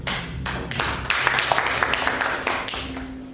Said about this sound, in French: Si c'est le cas, on s'applaudit.